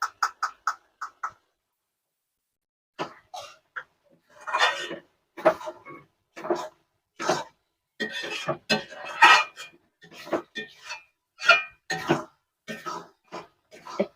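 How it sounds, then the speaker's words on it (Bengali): A spoon scrapes and clinks in a pan as garam masala is stirred into dhaba-style okra curry, giving an irregular run of metallic taps and scrapes after a short quiet pause. "একটু নেড়ে নেড়ে নেব"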